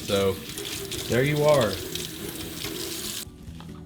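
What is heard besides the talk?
tap water running while rinsing cilantro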